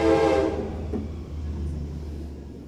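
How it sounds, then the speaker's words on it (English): A train passes near a village board meeting in Pawling. A strong horn-like tone opens, then fades into a low, steady rail rumble that lingers close by. "We'll wait for the train."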